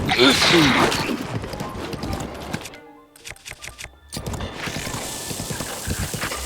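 Horse hooves gallop in the video game Zelda Breath of the Wild, a fast clip-clop rhythm under loud game combat noise, with someone talking excitedly over it and a short quieter stretch partway through.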